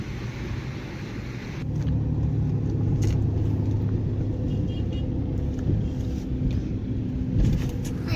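Vehicles roll one after another past a railway level crossing near Aswali railway station, a steady close rumble of engines and tyres that swells after the first two seconds and stays dense and continuous.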